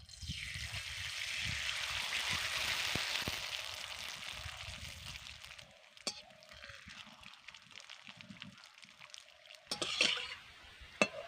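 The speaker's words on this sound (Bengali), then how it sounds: "তেলকে ভালো করে গরম করে নিয়েছি এবার পাঁপড় দিয়ে দেবো" Homemade flour papad crisps fry in hot oil, a broad bubbling hiss that swells over the first few seconds and then dies down, followed by faint clinks of utensils.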